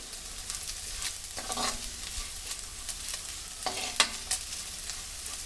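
Taro (chamadumpa) pieces fry crisp in a pan, giving a continuous sizzle broken by a few louder bursts of spatula stirring and scraping near the start and again later.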